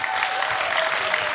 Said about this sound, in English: let's give a big round of applause to NorthPoint here for hosting us.